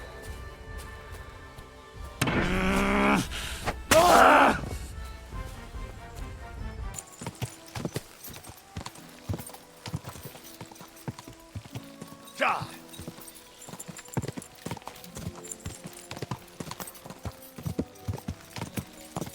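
Horse hooves clip-clop at a steady walking rhythm in the video game Kingdom Come Deliverance 2, close and fairly soft, continuing through the clip after a louder burst of other game sounds near the start.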